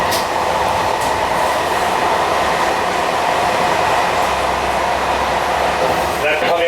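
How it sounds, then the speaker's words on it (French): A train rolls through Châtillon station, a loud, continuous rumble of wheels on rails with steady rolling noise and a brief metallic clatter near the end. "La traversée de la gare de Châtillon"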